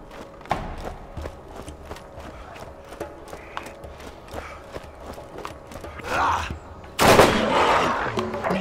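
Rifle fire in the Borderlands shooter game, with sparse single sharp shots spaced over a quiet bed of game sound, followed by a louder burst of noise near the end.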